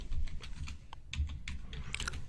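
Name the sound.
typing a SQL query on a computer keyboard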